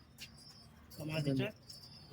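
Giribaz pigeons in a cage at a Murshidabad sale give a soft, low coo with faint chirps around it, close by but quiet, as someone talks nearby.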